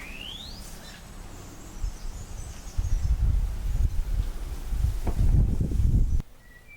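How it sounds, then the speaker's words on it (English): Bird calls and chirps ring out over a rustling, noisy background in Svalbard, with a brief high whistle early on and no talking. "Can you hear the birds?"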